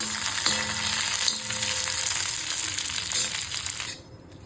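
Food fries in a pan for a Maharashtrian mixed usal, a loud continuous crackling sizzle up close with some stirring scrapes, cutting off abruptly near the end.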